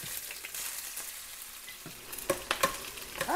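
Garlic and onion sautéing in a pan for chicken adobo, a steady close sizzle with crackling bursts and stirring scrapes that grow busier in the second half.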